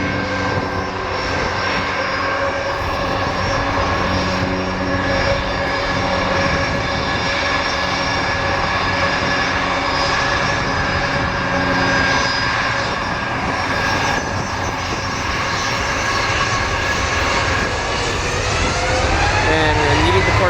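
An Alaska Airlines jet airliner passes at an airport in Portland, its engines a loud, steady roar that holds throughout with a slowly shifting pitch as it goes by.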